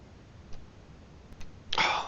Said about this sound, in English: Let me roll some dice here